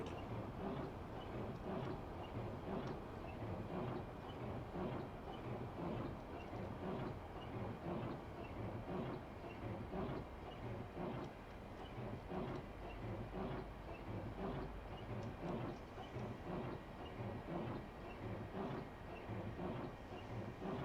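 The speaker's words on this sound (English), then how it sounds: "I put on some throttle so I could try to maintain some speed with the heavy slowdown of the train now." A high-speed train on the London to Faversham line rumbles and clatters as it slows heavily, a steady loud rolling roar with rhythmic wheel beats and no one speaking.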